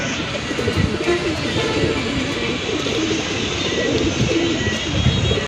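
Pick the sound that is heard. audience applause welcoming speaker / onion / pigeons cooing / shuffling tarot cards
pigeons cooing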